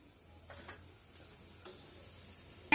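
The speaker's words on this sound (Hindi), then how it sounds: "जैसे ही ऑयल गर्म हो जाएगा हमें इसमें फोरन डाल देना है, सूखी लाल मिर्च और जीरे का।" Dry red chillies and cumin tempering in hot oil: a soft continuous sizzle with a few faint clicks and stirring taps, ending in a sudden louder burst.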